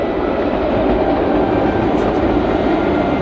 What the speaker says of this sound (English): There it is, the Hogwarts Express.